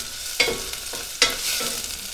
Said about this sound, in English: Let the onion get started.